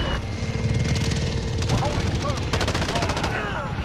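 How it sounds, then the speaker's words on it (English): Gunfire in Call of Duty: Modern Warfare, rapid bursts of shots over dense battlefield noise and aircraft rumble, loud and continuous, with players talking over it. "How did he shoot me through my riot shield?"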